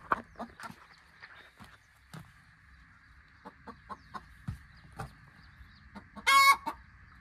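Hens in a free-range poultry shed give soft scattered clucks over a faint steady background drone, with one louder squawk near the end.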